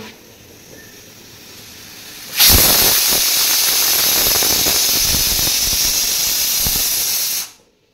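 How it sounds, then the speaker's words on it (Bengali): Rice and lentils cook on a home stove as a pressure cooker suddenly lets off a loud, steady hiss of steam for several seconds, close up, before abruptly stopping. "এই হচ্ছে ভাত বসিয়েছি, আর এখানে হচ্ছে ডাল সেদ্ধ বসিয়েছি"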